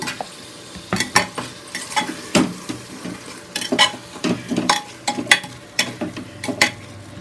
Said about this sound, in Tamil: இதில் வந்து தக்காளி சேர்த்துக்குவோம். தக்காளி நல்லா வேகணும், வெந்து நல்லா ஒரு தொக்கு மாதிரி வரணும்.